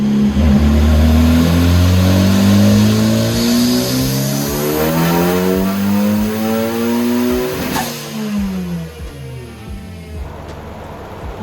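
A high-compression turbocharged 1.6-liter Mazda Miata engine revs hard on a dyno at 25 psi of boost, with a loud rising engine note climbing in pitch through a sustained pull before cutting off sharply near the end, recorded close and alone.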